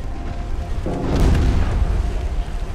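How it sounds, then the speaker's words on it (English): A torpedo strikes a warship in the naval battle game Ultimate Admiral Dreadnoughts, a deep booming explosion that swells suddenly and rumbles on heavily, loud and close, with no talk over it. "Oh, torpedo hit!"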